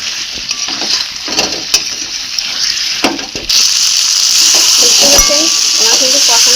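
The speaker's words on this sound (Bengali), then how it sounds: "আমি আবার একটু নাড়া দিয়ে নেব" Mutton curry with fried potatoes being stirred in a pan, scraping and clatter over a continuous loud sizzle that swells louder midway, with faint voices now and then.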